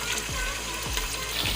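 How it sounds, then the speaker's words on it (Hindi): Beef pieces for nihari hit hot oil in a pressure cooker, a loud continuous sizzle and crackle with repeated soft thumps as each piece drops in. "ऑयल हमारा गर्म हो गया है। अब मैं इसके अंदर गोश्त शामिल करूंगी"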